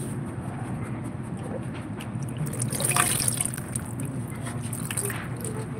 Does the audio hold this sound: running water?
yes